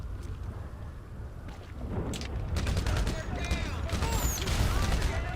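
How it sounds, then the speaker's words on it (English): Firework launcher shots in GTA Online, a burst of crackling bangs and whistling streaks that build after a quieter start, dense and loud over background game noise. "Bro, the firework launcher."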